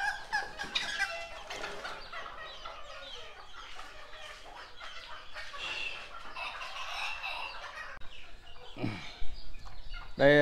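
Serama chickens, including a hen laying and sitting on eggs, cluck and call continuously at close range in a busy, overlapping flock chorus with no talk.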